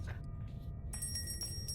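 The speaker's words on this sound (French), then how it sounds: "Arrête de sonner la cloche." A bell rings in the Roblox Granny horror game, a bright, sustained metallic tone with repeated strikes that ring on over low background rumble.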